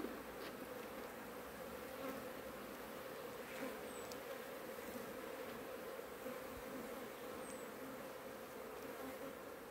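Honeybees buzzing in an opened hive colony during an inspection, a steady dense hum with a few individual bees droning close past, no talking.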